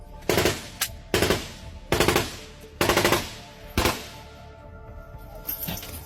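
Thai rangers assault a base with automatic gunfire, roughly five separate bursts of rapid shots with short pauses between them, fairly loud and sharp.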